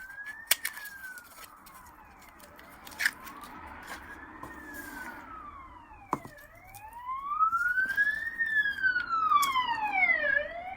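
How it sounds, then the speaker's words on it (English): A siren wails in rising and falling sweeps, faint at first and then louder and closer, with a few sharp clicks in between. "I apologise, you're going to get a siren"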